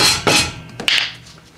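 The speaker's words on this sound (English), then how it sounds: "make sure you hammer this all the way in this time" Hammer blows drive a wheel bearing into the hub of a Ford Focus: two or three sharp metallic strikes at close range, each a short bright impact that dies away quickly, with no talking.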